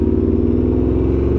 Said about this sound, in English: You hear that bike behind you?